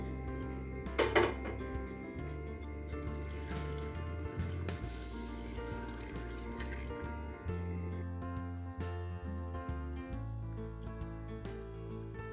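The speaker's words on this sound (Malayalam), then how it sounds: "ഇനി ഇതിലേക്ക് കുറച്ച് വെള്ളം ഒഴിച്ച് നമുക്കൊന്ന് കഴുകിയെടുക്കാം." Cut potatoes for French fries are washed in a bowl of water, with soft sloshing, drips and occasional clinks of the bowl over a quiet, continuous background.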